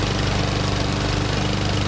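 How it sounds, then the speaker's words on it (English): Lawn mower engine running steadily while cutting grass at a home in a township, a continuous loud mechanical drone with rough rhythmic knocking throughout, no voices. "Hall is mowing his 10th lawn of the summer at a home in Lower Heidelberg Township"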